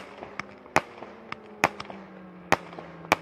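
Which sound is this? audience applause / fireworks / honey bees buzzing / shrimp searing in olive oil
fireworks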